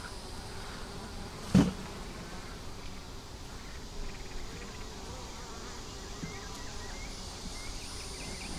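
Honeybees hum steadily at a hive, a dense continuous buzz from many insects, with one brief louder knock early on.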